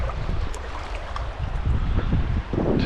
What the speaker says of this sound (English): today is a windy day